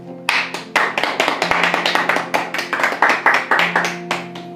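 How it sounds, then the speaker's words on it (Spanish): A church congregation claps together in steady, rapid applause, dense and close, sustained for several seconds after a brief pause at the start. "Vamos a dar un aplauso a Dios."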